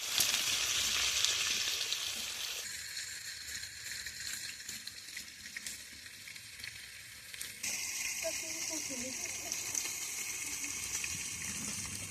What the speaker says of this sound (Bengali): কড়ার মধ্যে তেল আলু দিয়ে দিচ্ছি